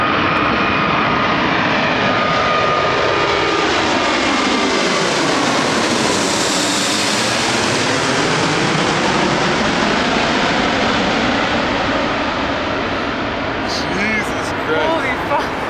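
An Emirates Airbus A380 takes off at Toronto Pearson International Airport with a loud, close jet roar that rises, sweeps past overhead with a clear pitch shift, then slowly fades as distant voices react.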